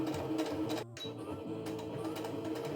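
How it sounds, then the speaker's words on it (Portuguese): A domestic sewing machine stitches a square tablecloth at slow speed, a close continuous mechanical whir and rattle that breaks off briefly near the start, then resumes, with no voices. "Vai devagar com a máquina, o pezinho sobe"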